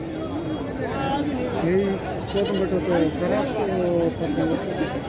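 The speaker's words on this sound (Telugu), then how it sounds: "మేక పోతులే ఉన్నాయి అన్ని పోతులే కదా" Male goats bleat repeatedly at a busy weekly sheep and goat market, overlapping calls rising over a constant murmur of crowd chatter and nearby talk.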